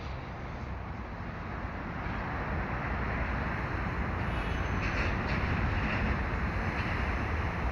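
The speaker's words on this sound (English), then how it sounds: "Yeah, it's a maintenance of way train." A Herzog maintenance-of-way train passes as a steady, broad rumbling roar that builds slightly and holds for several seconds, mixed with wind noise on the microphone.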